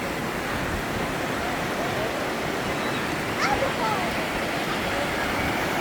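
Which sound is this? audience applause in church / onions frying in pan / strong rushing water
strong rushing water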